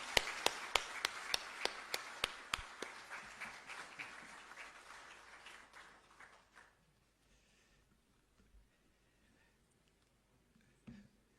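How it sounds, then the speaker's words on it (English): A round of applause at the swearing-in ceremony of Ghana's Chief Justice, sharp hand claps ringing out loudly at first, then thinning and fading to scattered claps and near silence. "Let's give him a round of applause."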